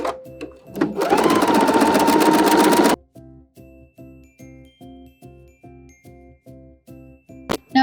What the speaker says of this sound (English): And now we're going to sew down that lining.